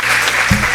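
Audience at a seminar applauding, a brief burst of dense clapping close up with a low thump midway.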